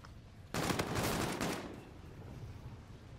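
A short, rapid burst of automatic gunfire rattles for about a second in a Call of Duty: Infinite Warfare 2v2 match, fairly quiet and then fading into low background noise.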